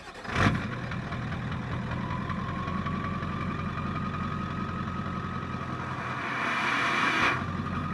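A Ford OBS 7.3 diesel truck with its muffler cut off idles in a steady, deep, loud rumble, with a brief revving swell near the end and no talk.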